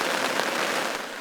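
Rain patters steadily onto a campsite awning in southern Iceland, a dense, even hiss of drops close by with no speech.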